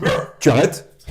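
A pet dog named Sherlock gives a couple of short barks up close, overlapping with a person speaking French.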